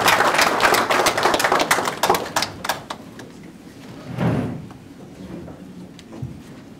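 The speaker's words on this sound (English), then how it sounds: "Please, a round of applause for him as he walks up." An audience gives a brief round of applause as a man walks up to speak at a formal Nigerian event: scattered sharp claps that thin out and fade after a few seconds, followed by quieter room noise.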